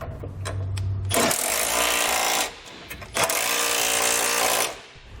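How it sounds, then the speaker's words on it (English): A power tool drives a 19mm socket to snug the M12 hitch bolts while an EcoHitch hidden trailer hitch receiver is installed on a 2017 Toyota Prius v. There are two loud, sustained bursts with a short pause between them. "I'm going to come back with a 19mm socket and snug up all my hardware."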